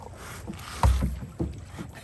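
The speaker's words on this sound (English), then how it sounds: "It's hard to paddle, though." Kayak or canoe paddles dip and pull through the water on a family outing with alligators near Orlando, Florida, giving a few close, uneven splashing strokes over light wind.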